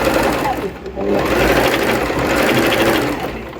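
A Singer Fashion Maker 1412 sewing machine runs a steady, close stitching whir with a fast mechanical rhythm for almost four seconds, dipping briefly near the one-second mark, under a speaking voice.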